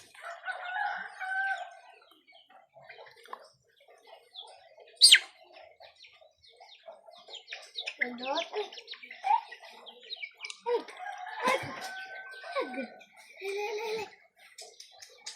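Chickens cluck and a rooster crows amid scattered bird chirps, fairly close, with bursts of calls rising and falling over about fifteen seconds; the chickens are being treated for eye ailments.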